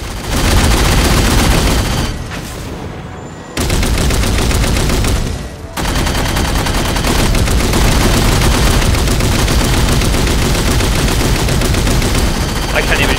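Heavy, continuous gunfire in the Halo 4 video game, loud rapid automatic bursts filling nearly the whole stretch, broken by two short pauses before the shooting resumes.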